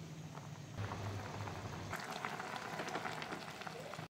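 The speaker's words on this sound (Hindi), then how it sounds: "पाया को पानी में कम से कम 30 से 40 मिनट तक बॉयल होने देंगे।" Mutton trotters (paya) boiling in a pot of water give a steady, close bubbling and burbling hiss, with a denser, more crackly texture after the first couple of seconds and no talking.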